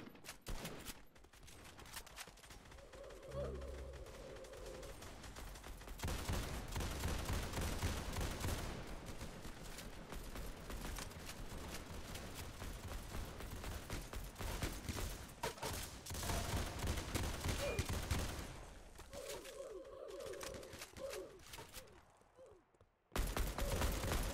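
Shotgun blasts ring out in a Roblox shooting game, dense bursts of gunfire rattling almost continuously over a loud noisy backdrop, with a short lull near the end.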